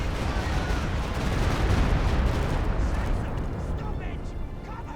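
Stuka zu Fuss rocket artillery barrage in Company of Heroes 2, a dense, loud rolling roar of overlapping explosions that swells and then slowly fades, with a commentator talking over it.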